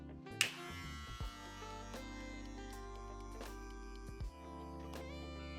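Electric hair clippers buzz steadily at close range as hair is cut during a mid taper, a constant motor hum with a few brief clicks and knocks as the blade lever is adjusted, no talking.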